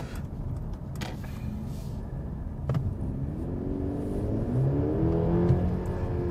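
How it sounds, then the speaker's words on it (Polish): Mercedes CLE pulling away under full throttle with turbo lag, heard from inside: a low engine hum that swells, then revs climbing in rising tones toward the end, no talk. "Teraz na przykład ruszam but w podłogę. Czuć, jak uruchamia się turbodziura."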